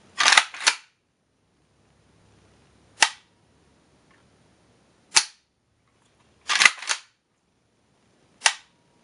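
Dry-fire trigger clicks of an Arsenal SLR-106FR .223 AK rifle: five sharp, close metallic snaps spaced a couple of seconds apart, some doubled as take-up and break, in otherwise near silence.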